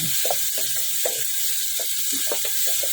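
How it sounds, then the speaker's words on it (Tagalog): Garlic sautéing in a pan, a constant bright sizzle with soft scattered stirring knocks, no talk over it. "Ginisa ko na yung ating bawang guys."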